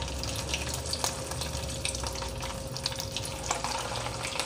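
Paneer pieces frying in hot oil over a low flame, a steady close hiss and crackle with scattered sharp pops, continuous and fairly loud with no talking.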